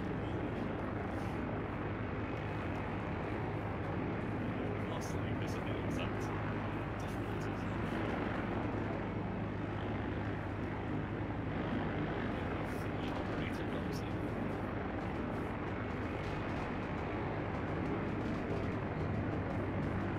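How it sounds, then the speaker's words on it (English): Helicopter in the ArmA 3 military game, a steady continuous rotor and engine drone filling the whole stretch at constant loudness, with voices talking over it now and then. "Is that an enemy heli?"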